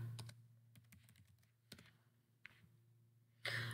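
Quiet keystrokes tapped on a computer keyboard in a few quick bursts over a faint steady hum, ending with a louder clatter of keys.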